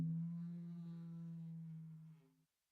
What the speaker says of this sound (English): so it's the lower conga on that same library